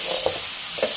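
Catfish in red curry paste stir-fried over high heat, a steady loud sizzle with two brief scraping stir strokes, close up.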